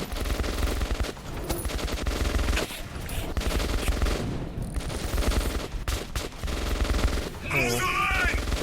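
Sustained bursts of automatic gunfire in the post-apocalyptic shooter Metro 2033 Redux, loud and rapid with short pauses between volleys, mixed with game noise, a brief whistling sound near the end, and a voice shouting excitedly over the shooting.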